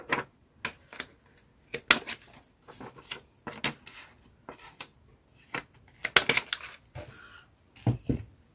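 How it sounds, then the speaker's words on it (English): Corner rounder punch rounding the corners of a paper gift tag: a series of short, crisp clicks and snaps in irregular bursts, close and fairly quiet, with brief pauses between punches. "Let's start by corner rounding this and getting it down"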